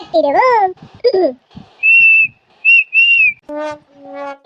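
A person whistles several short, clear, high notes close by, interleaved with bursts of lively speech from other voices.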